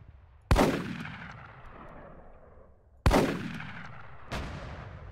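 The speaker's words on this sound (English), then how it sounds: "This goes up to 300 meters as well. What the fuck? It's like a grenade launcher." Three loud, sharp blasts from a grenade-launcher-style weapon in the military shooter ArmA 3, each a heavy boom with a long decaying echo, the first two spaced apart and the third arriving sooner.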